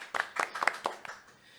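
A small audience claps to welcome Lucho Llosa, a short burst of close, distinct hand claps that thins out and fades within about a second.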